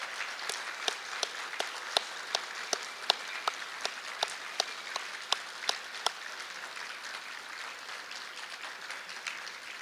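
A banquet room audience at a Sheraton Waikiki awards event applauds veterans standing up, a continuous patter of many hands with a few sharper individual claps cutting through, moderately distant and steady.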